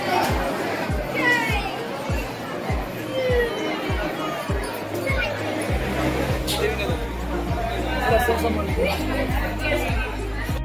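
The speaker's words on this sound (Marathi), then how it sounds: "इथे बघा गाभाऱ्यामध्ये किती गर्दी आहे पूर्ण" Dense crowd chatter fills the packed sanctum of the Saptashrungi temple, a steady indoor babble of many overlapping voices with occasional sharper calls and rhythmic knocks beneath.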